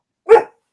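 A single sharp bark from a female dog, close by and loud, standing alone without talk in a home setting during a live show.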